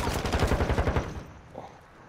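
Rapid automatic gunfire from a teammate in Call of Duty: Modern Warfare II, a loud, dense burst of evenly spaced shots lasting about a second before cutting off into quieter game ambience.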